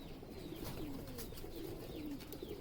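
Female Fulsiya Madrasi pigeons at a farm coo softly and steadily, low repeated calls layered over a constant murmur of birds with no voices present.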